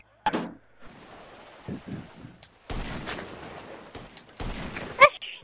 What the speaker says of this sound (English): I'm in cover, stop shooting at me, dang.